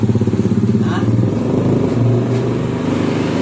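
Honda Beat scooter engine turning over on its electric starter, a steady low rumbling idle with regular pulsing, close and loud, joined by someone speaking.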